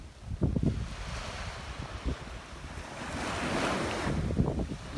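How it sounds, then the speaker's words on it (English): Surf breaking on a beach at Saly, Senegal, a steady wash of waves with gusts of wind buffeting the microphone and a few low thumps, no voices. "Beautiful beach."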